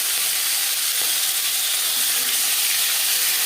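Fish frying in hot refined oil in a pan, a steady dense sizzle and hiss that stays loud and unbroken throughout.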